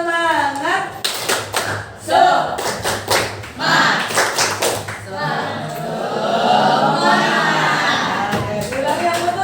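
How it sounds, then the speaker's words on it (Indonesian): Group of people doing a rhythmic tepuk semangat clap in a classroom training session, sharp bursts of claps in patterns with voices chanting and talking between them. "Tepuk semangat."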